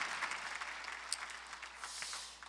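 A church congregation at a Sunday worship service claps together, a faint, distant, steady patter of many hands with a few sharper claps standing out.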